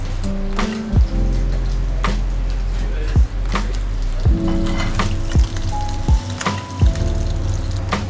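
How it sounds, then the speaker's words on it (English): Coral trout fillet frying skin-side down in a pan in a restaurant kitchen, a steady close sizzle with scattered crackles, under clanks and knocks of kitchen activity and a low background hum. "so we want to keep it nice and flat on the pan just so that all the skin gets crispy"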